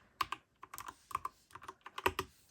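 Someone types in short, uneven bursts on a Dustsilver D84 mechanical keyboard with Gateron Red switches, each keystroke giving a close, crisp clack.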